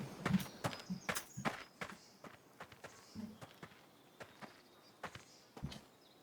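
Footsteps in the VR game Blade and Sorcery, played on a VR treadmill in a dungeon, fall in an irregular run of soft thuds and scuffs, quiet and close.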